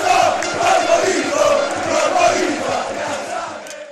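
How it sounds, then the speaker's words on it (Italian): Cosenza football supporters in a stadium crowd chant for their striker Alain Baclé, a loud, sustained mass of voices rising and falling together throughout. "i tifosi del Cosenza avranno intonato un coro all'attaccante Alain Baclé"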